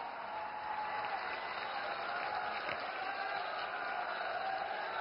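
Sustained, even applause from a large crowd welcoming Prime Minister Narendra Modi at a public event in Devbhumi Dwarka, Gujarat, holding at a steady level with no breaks.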